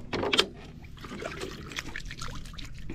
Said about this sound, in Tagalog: Hugas tayo ng kamay.